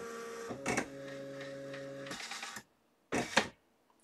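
Computerized embroidery sewing machine driven from laptop software, moving to line itself up and begin stitching on an appliqué bird: a steady mechanical whir with clicks and bursts of rattle, then a pause and a short final burst.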